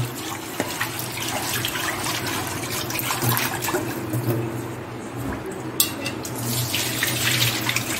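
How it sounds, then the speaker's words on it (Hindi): A stainless steel vessel is rinsed under running tap water, a loud, continuous splashing gush with brief clatters of metal, and no speech. "इसको मैं पानी से पहले धो लेता हूँ"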